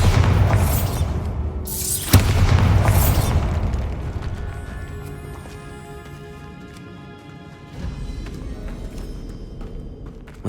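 A Bombarda explosion spell cast inside a tomb in Hogwarts Legacy, heard as two heavy booming blasts close together near the start, followed by a long rumbling, crumbling decay and a later mechanical rumble.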